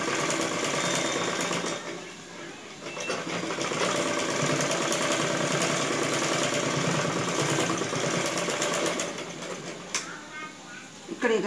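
A sewing machine stitching the front part of a blouse, a loud continuous close whirring hum of rapid stitching that briefly slows before stopping near the end, with talk over it.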